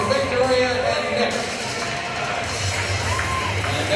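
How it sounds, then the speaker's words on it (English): Arena crowd at an evening women's hockey game, RPI against Clarkson, cheering and applauding for a pair of contest winners: a dense, steady roar of many voices and claps with shouts poking through, loud and continuous. "Let's have a nice round of applause for Victoria and Nick."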